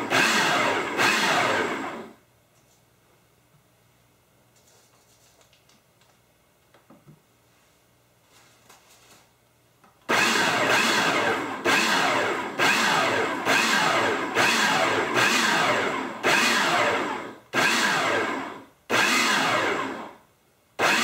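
A food processor pulses butter into an apple pie crumble crust mixture: loud, close whirring bursts, one short burst, a long pause, then a run of rapid pulses of about a second each, with no talking.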